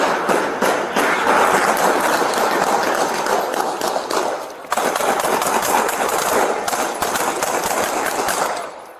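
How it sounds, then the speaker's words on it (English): Rapid, sustained bursts of gunfire crackle loudly for several seconds, with a brief gap midway before another long volley. "30 shots fired. Shots fired."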